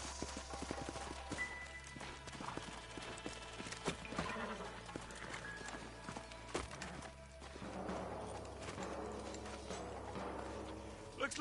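Horses moving at a steady clip-clop in Red Dead Redemption, hooves thudding under a dense game soundtrack with low rumble and occasional voices, steady and fairly loud throughout.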